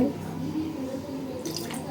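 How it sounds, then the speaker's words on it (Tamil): Water is poured over mangoes in a cooking pot, a soft splashing and trickling, with a few louder splashes toward the end. "இப்போ அந்த மாம்பழம் முழுகிற அளவுக்கு தண்ணி விட்டுக்கலாம்."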